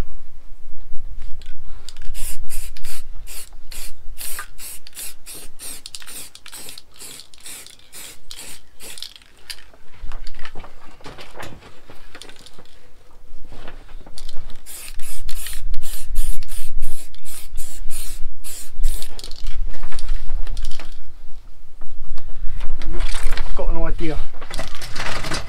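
A wheel is spray painted outdoors in wind in repeated short hissing bursts from the can, with wind buffeting the microphone and a person talking in between.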